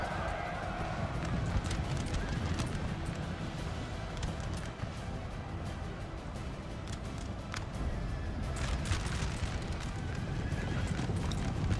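Many cavalry horses gallop in a battle of the video game Napoleon Total War, a dense, continuous thunder of hooves with occasional whinnies and distant booms across the whole stretch, with no talking.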